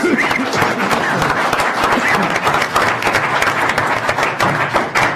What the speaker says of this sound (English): If we can get a round of applause for the candidates, please.